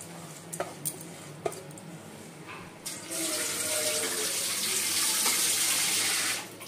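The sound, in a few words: water poured over dalia, lentils and vegetables in a cooker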